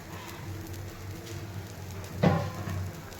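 A paneer dosa roasting on a pan gives a soft, steady sizzle and crackle throughout, with a brief louder burst partway through, close and fairly quiet.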